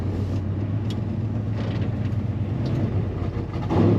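Low rumbling engine of a 1961 Ford F-250 pickup truck with steady road noise, a slight rise in loudness near the end as it brakes and slows.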